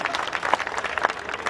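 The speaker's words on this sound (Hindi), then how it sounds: "तालियां कम हैं।" Audience clapping at a Hindi comedy poetry show, a steady patter of applause from a crowd with scattered louder claps, continuous through the short stretch.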